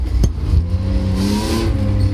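A BMW 2.5 engine revs briefly with a throttle blip during a downshift from second to first, its pitch sweeping up then settling, loud and close, with steady engine drone throughout.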